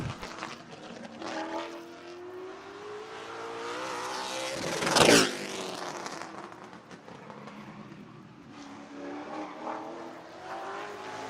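The engine of race car number 97 roars around Jefferson Speedway on a qualifying lap, rising as it approaches, peaking in a loud pass-by, then fading with revving pitch shifts.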